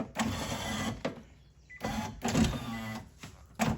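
A car's power window grinds and scrapes as it travels up, heard as three harsh motor-driven bursts separated by short pauses, close and fairly quiet.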